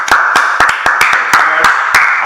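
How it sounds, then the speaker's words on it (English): Steady hand clapping from a small group, continuous and fairly loud, with sharper individual claps standing out in an uneven rhythm. "Let's go ahead and clap it up."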